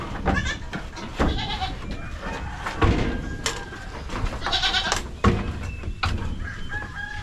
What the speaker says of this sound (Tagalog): Yung 3 nating kambing dito.